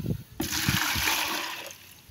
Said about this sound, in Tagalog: So ngayon ay kukuha tayo ng tubig pandilig.